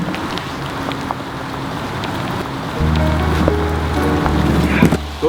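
Steady rain patters outdoors in the Fontainebleau forest, a dense continuous hiss of drops close by, with a low droning hum joining partway through.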